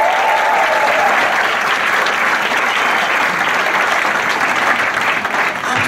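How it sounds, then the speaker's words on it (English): Steady, loud applause from an audience at a church tour event, a dense wash of clapping that holds evenly for several seconds with a faint murmur of voices underneath. "Let's give her a big hand."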